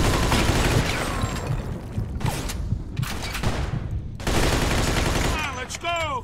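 Dense gunfire in the Mafia 2 video game: rapid automatic bursts and shots crackle almost continuously, briefly thinning mid-clip, with someone shouting over the shooting.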